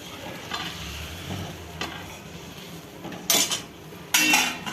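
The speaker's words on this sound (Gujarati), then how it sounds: "હલાવી દઈશું." Vegetable manchurian is stirred in a hot pan, with soft frying sizzle under scraping spoon strokes and two louder metallic clatters against the pan near the end.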